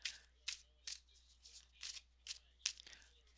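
Tarot cards being shuffled by hand, quiet close riffles in about seven short separate bursts with brief pauses between them and no voice.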